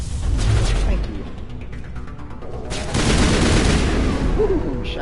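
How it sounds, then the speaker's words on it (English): Shotgun blasts in the video game Mass Effect amid heavy, booming combat noise, loud and sustained with a burst of renewed firing partway through, while voices talk over it. "Shotgun blast in the face."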